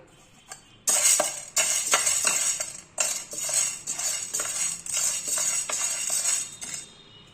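Chana dal dry-roasting in a pan for Chettinad mutton masala powder, stirred with a metal utensil: repeated close scraping and clinking strokes against the pan in an uneven rhythm, loud and without any talk.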